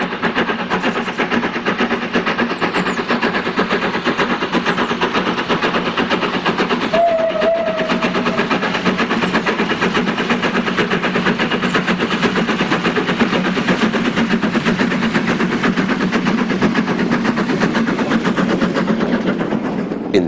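The L&Y 957 steam locomotive approaches Oakworth station on the Keighley and Worth Valley Railway during a 2006 winter gala, its loud, dense chuffing exhaust rattling continuously for twenty seconds, with a brief whistle-like tone partway through.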